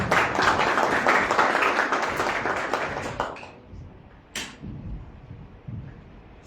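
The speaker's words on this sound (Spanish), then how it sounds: "Un aplauso, por favor." Audience at a public citizens' forum on electoral reform in Tlaxcala claps in dense, fairly loud applause for about three seconds, then it dies away into a quiet room with a few scattered sounds.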